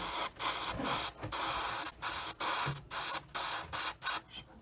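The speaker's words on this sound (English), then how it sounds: "Spraying this about 16 psi." An airbrush sprays paint at about 16 psi onto a Hasegawa 1/48 F6F-3 Hellcat model, giving about ten short bursts of steady hiss, each under a second, separated by brief silences and heard up close.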